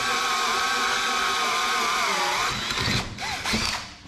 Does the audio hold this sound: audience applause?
no